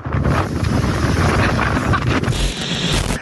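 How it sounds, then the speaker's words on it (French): Strong storm wind at Le Guilvinec buffets the microphone in a loud, continuous roar with gusting surges, close and unbroken for the whole stretch, with no talking. "Au Guilvinec, le vent est tel qu'il est difficile de marcher."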